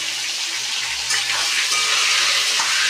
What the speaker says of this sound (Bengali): লাল করে ভেজে নেব পটলটা